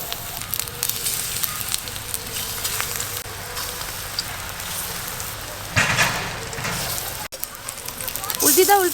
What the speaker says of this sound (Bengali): বড়া ভাজার জন্য কড়াই সরিষার তেল দিয়ে দেব